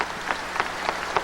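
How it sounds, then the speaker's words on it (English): A large outdoor crowd applauds in tribute to Pope John Paul, a steady wash of clapping with rhythmic swells recurring about every third of a second, fairly loud and without speech. "they clapped. Appreciation for John Paul, an Italian tradition"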